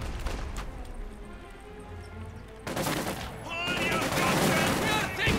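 Dense gunfire from the Company of Heroes 2 video game, with bursts of MG42 machine gun fire and scattered rifle shots. A sparse opening gives way to a loud, continuous barrage, with a voice talking over part of it.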